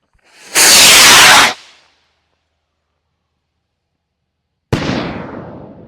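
A large firework rocket roars off with a loud, rushing whoosh lasting about a second, then a few seconds of silence before a sharp bang bursts overhead and trails off in a crackling decay.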